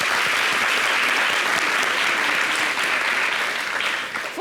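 A studio audience at a French-language TV show applauds, a dense, sustained wash of clapping that stays loud throughout and tapers slightly at the very end.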